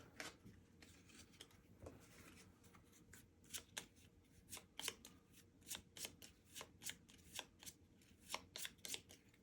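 A deck of cards is riffled and bridged repeatedly during a solo tabletop board game. The crisp fluttering bursts come in quick rhythmic clusters over a quiet room, close and clear, with no talking.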